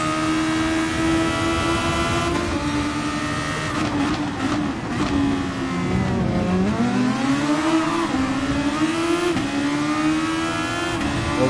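Super Formula race car in GT Sport, a loud high-revving engine whine held throughout, rising and dropping with gear changes and braking, up close with no talk.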